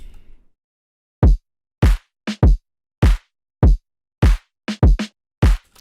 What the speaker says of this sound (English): without the clipper, it sounds like this.